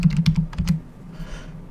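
A computer keyboard tapped in a quick run of about eight keystrokes, close and clear, then a brief quiet with faint room noise.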